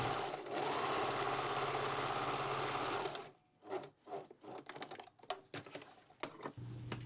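A sewing machine stitches a French seam on a sun dress, running in one loud continuous whir for about three seconds, followed by softer clicks and handling of fabric.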